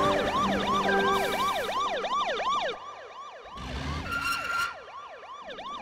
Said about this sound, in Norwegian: Og sirenen.